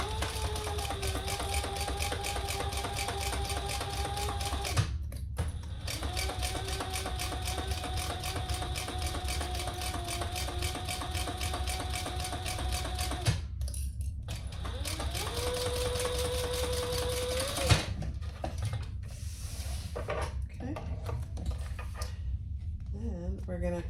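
A sewing machine runs along a seam on a crossbody bag, long stretches of rapid mechanical stitching broken by brief pauses and restarts, close and steady, with a voice talking intermittently over it.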